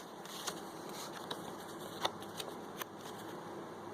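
Small paper journaling cards being handled, shuffled and tucked into a junk journal, giving soft papery rustles with a few light taps and flicks, close and quiet.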